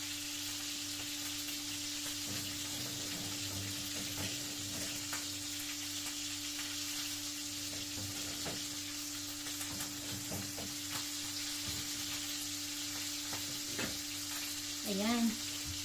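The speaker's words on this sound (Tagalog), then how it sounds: "At binalik na natin ang ating isdang piniprito." Small fish fry in a pan for a Filipino home meal, a steady dense sizzle throughout with occasional clinks of utensils and a low mains hum beneath.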